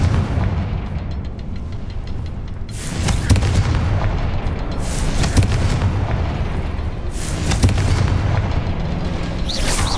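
The Confringo spell in Hogwarts Legacy sets off heavy booming explosions, two big blasts a few seconds apart with rumbling, crackling tails over a continuous low background roar.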